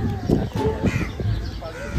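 Several harsh crow caws ring out close by, overlapping with a busy background and some indistinct voices.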